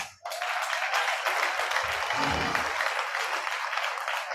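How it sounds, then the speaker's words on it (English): An audience at a science and technology lecture bursts into loud, dense applause after a brief pause, sustained vigorous clapping from many people filling the room, with a low murmur of voices rising briefly in the middle. "can you clap better?"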